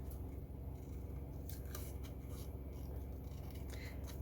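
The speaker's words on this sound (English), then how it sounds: "I'm going to go back and trim a more precise" Scissors trim a paper Christmas embellishment, cutting close around a printed image, with soft snipping and scraping strokes that are faint against a steady background hiss.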